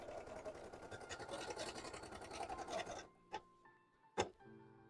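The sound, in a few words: embroidery sewing machine stitching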